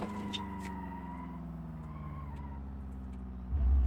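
A drag car engine in BeamNG.drive holds a steady droning rev with a falling tonal whine, then surges sharply louder near the end, with no talking.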